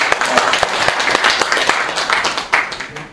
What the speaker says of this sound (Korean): 이럴 때 박수 한번 쳐주십시오